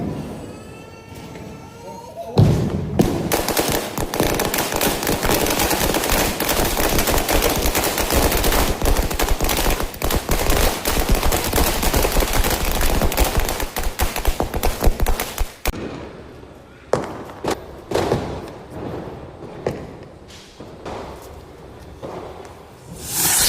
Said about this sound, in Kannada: ಮಗು ಜೊತೆ ಪಟಾಕಿ ಹಬ್ಬ ಮಾಡಿದ್ದು, ದೀಪಾವಳಿ ಆಚರಣೆ ಮಾಡಿ